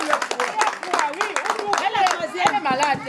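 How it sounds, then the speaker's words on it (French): Audience clapping at a primary school excellence awards ceremony, a steady dense patter of many hands running throughout with voices talking over it. "Applaudissez pour elle."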